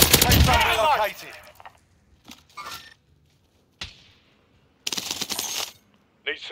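Rapid bursts of video game gunfire rattle out in sharp, clustered volleys separated by silent gaps. Voices are heard near the start of the clip.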